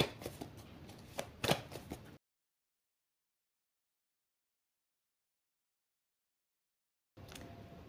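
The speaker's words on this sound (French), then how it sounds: "Je vais à nouveau mélanger le jeu." A deck of cards shuffled close by, with rapid riffling flutters and taps in two short bursts split by a long silent gap, fairly quiet and with no talking.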